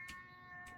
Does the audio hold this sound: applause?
no